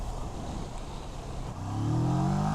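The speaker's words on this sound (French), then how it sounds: "pourquoi les vieux motards accélèrent quand ils rétrogradent" A motorcycle engine runs steadily, then is revved with a blip of throttle during a downshift, the old-biker technique of rev-matching. The pitch climbs and grows louder toward the end, close by with no talking.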